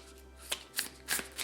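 Tarot cards are shuffled by hand in a series of soft riffling bursts, four quick papery flutters at close range against a quiet room, with no voices.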